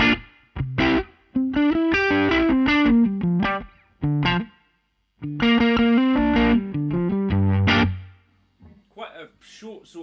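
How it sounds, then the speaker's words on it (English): Electric guitar plays through a Bad Cat Cub V amp with reverb turned fully up, with bursts of chords and single notes separated by pauses and a washy, ringing decay. "reverb all the way up."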